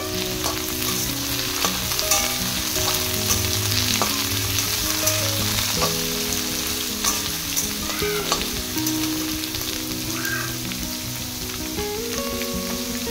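Carrot and capsicum frying in hot white oil in a wok, a steady dense sizzle with occasional stirring scrapes and clicks throughout, fairly close and continuous with no talking.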